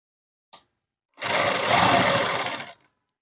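A sewing machine stitches net cloth for a dress in one brief close burst of whirring motor and needle chatter, preceded by a small click, then silence.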